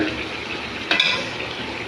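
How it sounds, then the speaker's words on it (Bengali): Chicken gizzards stir-frying in a pan for a dal bhuna, a close, even sizzle with one brief scrape of a spatula midway. "ঠিক এইভাবে কষিয়ে নেবেন"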